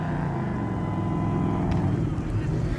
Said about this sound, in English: They're doing burnouts over here with the cops in the lot.